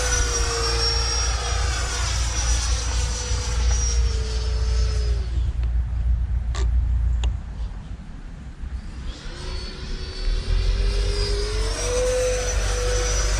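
An F-22 Raptor's jet engine roars steadily in a flight video game, then drops to a quieter, airy stretch before the engine whine swells back up.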